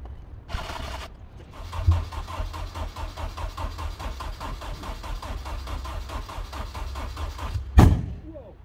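An MG TF sports car cranks over and over without catching, a long rhythmic churning of the starter between a couple of louder thumps, heard up close.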